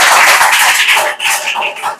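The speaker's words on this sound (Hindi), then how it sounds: "जोरदार ताली बजा दीजिए" Students in a tuition class burst into loud, dense applause, a continuous wash of many hands clapping close by for the full stretch, with slight dips near the end.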